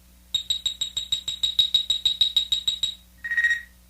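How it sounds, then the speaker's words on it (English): Star Trek communicator beep for a read-along storybook: a fast run of about sixteen bright, clipped chirps in steady rhythm, then a brief pause and one longer, lower tone, clear and close with no talk. "You will know it is time to turn the page when you hear the communicator beep like this."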